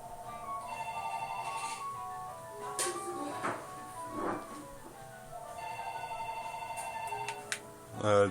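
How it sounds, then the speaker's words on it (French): A telephone ringtone in Minecraft plays as repeated melodic electronic phrases, quiet under other game noises and a few clicks. "Le téléphone, il sonne."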